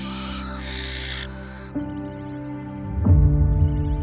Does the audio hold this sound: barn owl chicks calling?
yes